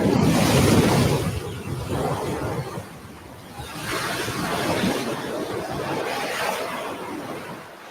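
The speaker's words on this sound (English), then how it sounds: "Many will drown in the pounding waves." Ocean waves pound a beach in continuous roaring surges. The loud, broad wash swells and recedes in slow cycles, with wind noise mixed in.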